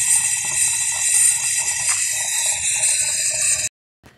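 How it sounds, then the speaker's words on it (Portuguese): Air sputters and hisses out of an open water tap, a harsh continuous gushing spray that runs steadily and then cuts off abruptly near the end. "você viu aí o ar da torneira saindo"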